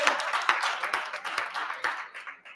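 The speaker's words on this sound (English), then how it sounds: "Have you all applauded the newly re-elected sheriff?" Audience applause for the newly re-elected sheriff at a live event at Henrico West, a short burst of fairly close, uneven clapping that tapers off over a couple of seconds.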